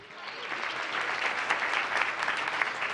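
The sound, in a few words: audience applause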